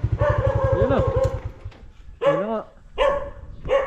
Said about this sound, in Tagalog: Yun ang aso.